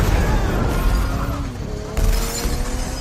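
Time bombs planted in parked cars explode in a film action scene: a loud, sustained blast of booming and shattering crashes with a fresh surge near the end, heavy and dense throughout.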